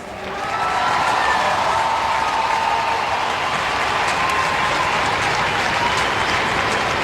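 A large crowd applauds the Adelaide Crows as 2021 AFLW runners-up at the Grand Final against Brisbane, a dense, sustained wash of clapping that swells within the first second and holds steady and loud throughout.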